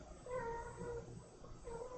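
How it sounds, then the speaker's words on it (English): A cat meows faintly in a quiet indoor room, giving a couple of soft, drawn-out cries over low background hum. "started meowing again"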